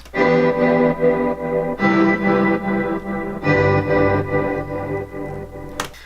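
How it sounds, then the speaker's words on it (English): Synth chords swelling in rhythmic pumping pulses, washed in heavy reverb, a new chord every couple of seconds with a brief high click near the end. "I added some like pumping"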